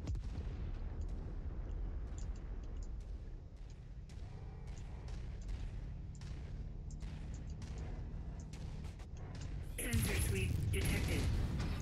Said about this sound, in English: God dang it, I shot the rock again